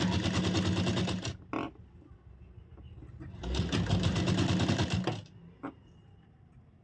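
A sewing machine stitching a princess-cut deep-neck blouse, two close bursts of fast rhythmic stitching with a quiet pause between and brief clicks as it stops.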